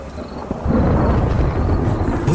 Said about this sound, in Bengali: বাইরে ভীষণ জোরে একটা বাজ পড়ল।